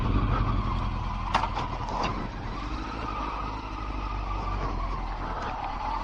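Older motorbike engine running low on petrol, a steady dense rumble with slight uneven sputters and a brief harsh burst near the middle, close and continuous throughout.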